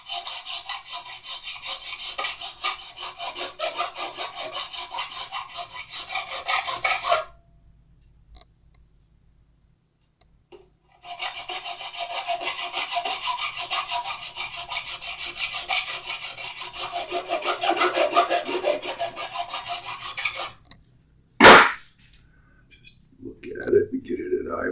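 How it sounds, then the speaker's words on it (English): Crowning file grinding down the frets of a Stratocaster guitar neck, raspy back-and-forth rubbing strokes close up in two long bursts separated by a pause, ending with a sharp knock and quiet handling sounds. "you just put a mark, grind it down with the crowning file until you have just one line left on top"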